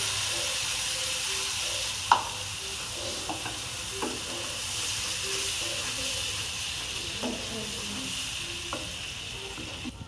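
Tomato sauce hits a hot kadai for a homemade stovetop pizza, giving a steady, fairly faint sizzling hiss with a few soft scrapes and clinks from stirring. No one speaks.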